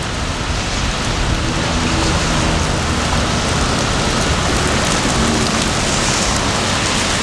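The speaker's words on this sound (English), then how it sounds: "Nice and rainy, man." Steady rain falls outdoors across a post office parking lot, a dense, even hiss of drops on surfaces that stays loud and unbroken throughout with no voices.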